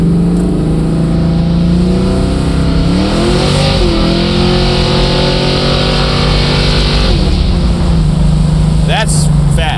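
A 1973 Ford Mustang 351 Mach 1 tribute V8 at full throttle, loud and close, its engine note climbing and shifting through gears with a steady aggressive roar, a voice speaking briefly over it.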